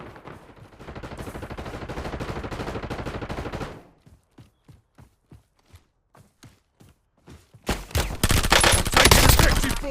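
Gunfire in the online shooter Call of Duty Warzone: a sustained burst of automatic fire, then a string of single evenly spaced shots, ending in a loud heavy volley.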